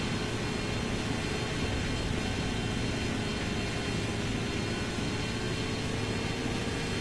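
A helicopter in Enemy Territory: Quake Wars gives off a loud, constant, broadband engine and rotor roar with a faint steady hum underneath, unbroken and without speech.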